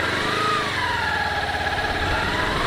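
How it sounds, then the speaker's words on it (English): A 2008 Kawasaki Ninja 250R motorcycle engine runs steadily up close while shifting gears, giving a loud, even drone whose pitch rises and then levels off as the gear changes. "Now I'm going to shift in second gear."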